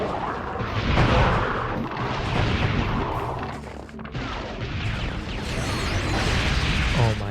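Weapon fire from Ratchet and Clank Going Commando, a busy run of loud game blasts, mechanical clanks and crashing impacts packed closely together, with occasional speech mixed in.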